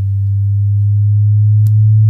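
Low sine test tone, around 100 Hz, played through a Mackie Thump Go speaker in a crossover test, a steady loud hum holding one pitch with a brief click near the end.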